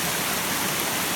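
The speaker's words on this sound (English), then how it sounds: "I'm stepping to the stones in the middle of the river here." River water rushes steadily over stones in the middle of a muddy, rain-swollen river, a dense continuous roar heard close up with no voices.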